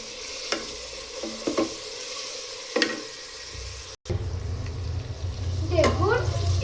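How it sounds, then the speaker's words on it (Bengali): Garlic, chopped potato and green chili frying in a pan while being stirred, a steady sizzle broken by scraping knocks of the spoon, with a brief cut midway and faint voices in the background. "এবার আম্মু এটাকে ভালো করে নাড়ছে।"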